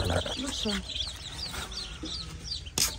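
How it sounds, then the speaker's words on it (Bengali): Farm chickens cluck and chirp nearby in a rural yard, a low mix of short calls with some background noise and a brief clatter near the end. "এদিকে ফার্ম মুরগি বন্ধ কর"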